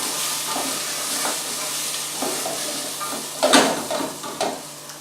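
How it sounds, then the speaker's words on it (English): Chopped mixed vegetables being stirred and fried in a pan for a beef stew, browning and softening, give a continuous close sizzle broken by occasional scraping stirs. "mix all these lovely chopped vegetables in there. It'll take about 5 minutes to brown and soften."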